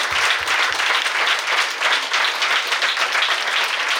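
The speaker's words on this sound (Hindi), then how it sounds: "जोरदार तालियां बजा दो।" A church congregation applauds loudly and steadily, a dense wash of clapping that fills the whole stretch without pause.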